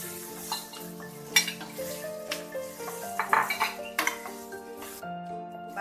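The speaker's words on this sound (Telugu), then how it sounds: "బాగా కలపాలి." A spoon stirs leftover thalimpu rice with ginger in a pan, giving repeated scraping clinks and metallic taps at an uneven rhythm over a soft sizzle, close and fairly quiet with no talk.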